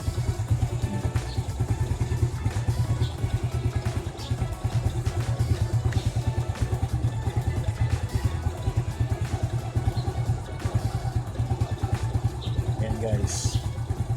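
A motorcycle engine runs after starting, idling with a steady fast chug close by, while someone talks over it.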